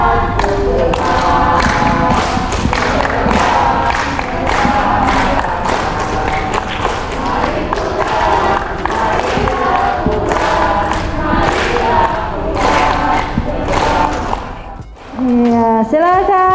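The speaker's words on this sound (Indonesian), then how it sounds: "silakan untuk menampilkan yel-yel terbaiknya" Student team at a university character-education project showcase performing their group chant, loud massed voices and rhythmic thumps filling the space for about fifteen seconds before cutting off.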